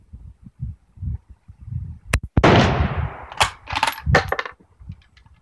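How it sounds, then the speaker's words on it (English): A Carcano rifle in 7.62 fires full metal jacket rounds at a 25-meter range: two sharp, loud close reports about a second apart, each with a brief ringing tail, amid metallic handling clicks and rattles. "I'll shoot a couple full metal jackets."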